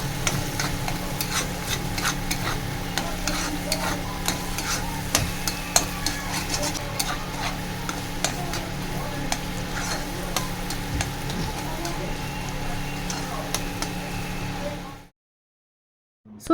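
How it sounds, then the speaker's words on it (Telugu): Masala with turmeric and coriander powder fries in a pan, giving a steady close sizzle with frequent scraping stir strokes for about fifteen seconds before it cuts to silence. "ధనియాల పొడి, బాగా వేయించుకోవాలి దీన్ని కూడా."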